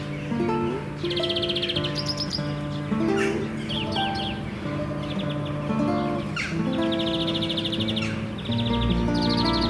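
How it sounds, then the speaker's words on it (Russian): A nightingale sings outdoors on a morning walk in Zaporizhzhia, repeated clear whistles and rapid trilled phrases in a varied rhythm, fairly loud and near with no talking. "Все-таки это, наверное, соловей все-таки."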